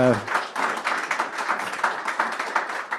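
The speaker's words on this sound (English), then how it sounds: "I'd like everyone to give a round of applause to our guest today." A small audience at a business talk on tech recruiting in Japan claps for a guest speaker, with distinct, uneven individual claps at moderate volume after a brief voice at the start.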